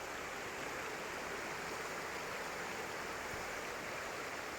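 River water flows steadily at Vadattupara in the Idamalayar forest, a constant broadband rush that stays even throughout with no other sounds or voices.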